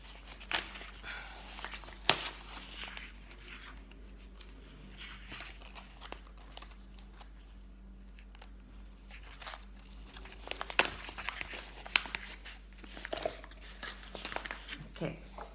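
A sugar package is torn and crinkled open in a home kitchen, with sharp rustles and crackles in scattered bursts close by, under intermittent talking and a steady low hum.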